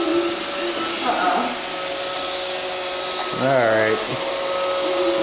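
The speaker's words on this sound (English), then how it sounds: "You riding the Roomba?" A Roomba robot vacuum runs steadily with a constant motor whine and brush hum through the whole stretch, while people talk over it.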